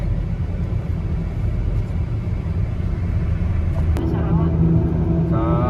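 A 2010 Chevrolet Captiva with a 2000cc diesel engine accelerates hard while overtaking a sugarcane truck, a loud sustained engine and road rumble with a rising whine near the end and voices faintly present.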